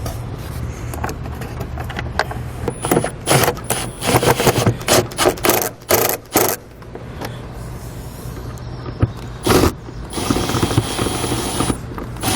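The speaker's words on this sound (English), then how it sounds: "we'll slide it back into place and secure all the screws" A drill or driver secures the screws on the engine airbox lid of a 2016 Chevrolet Colorado, heard close and loud as a series of ratcheting, whirring bursts separated by short pauses.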